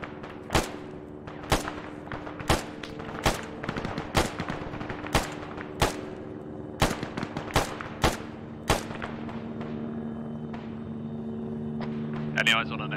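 Machine gun fire in a tactical military shooter game, about ten sharp, loud bursts spaced roughly a second apart over steady background rumble, fading into a continuous drone toward the end.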